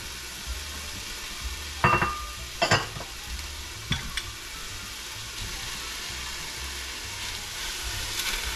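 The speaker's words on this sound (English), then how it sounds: "I just love that sizzling sound." Steady sizzling of onions, peppers and mushrooms frying in a saucepan, with a few sharp clinks and scrapes of stirring near the start, no talking.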